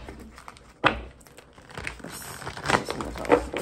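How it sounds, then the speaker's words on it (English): A deck of tarot cards is shuffled nearby in a few short, crisp, papery riffles spaced apart, fairly quiet against a still background. "That last shuffle didn't feel good."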